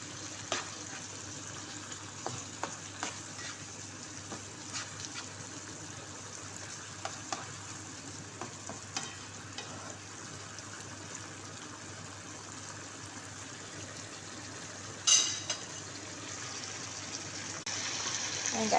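Chicken with bay leaves frying gently in a pan while being stirred, a low continuous sizzle with scattered utensil taps and scrapes and a louder clatter near the end, no speech.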